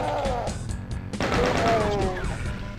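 Chaingunner enemies rattling off bursts in the Doom 2 beta, a dense run of rapid gunfire shots with a brief gap near the middle, loud and close over constant game noise.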